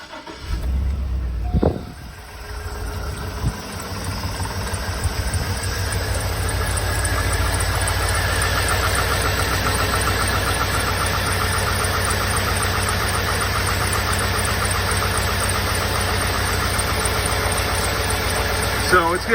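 A 2005 Chevy Silverado 2500 engine starts with a short crank and catch, then settles into a steady, loud, somewhat rough idle that runs on close by.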